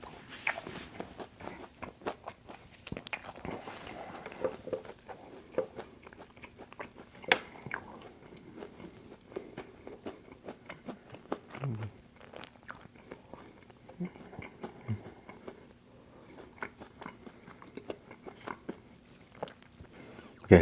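Close, crunchy chewing and biting of Burger King fast food, with irregular wet crunches and bites continuing steadily with no talking.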